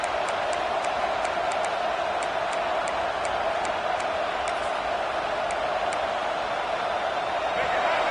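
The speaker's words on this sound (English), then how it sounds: "This crowd, full throat, splitting the eardrums and letting him know it's going to be a long day." A football stadium crowd roars loudly and continuously, forming a dense, unbroken wall of cheering with faint sharp pops scattered through it.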